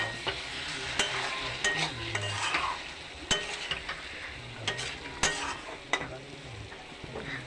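Cauliflower and prawn curry with fresh coriander leaves sizzles in a pan, with a steady frying hiss broken by repeated sharp spatula scrapes and clinks as it is stirred.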